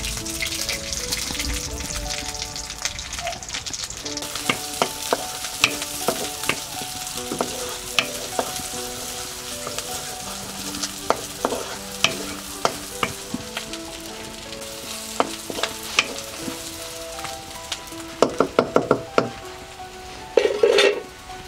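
Onion and garlic frying in hot oil for a taro leaf dish, a steady close sizzle with repeated scraping stirs and clinks of a utensil against the pan, growing busier toward the end.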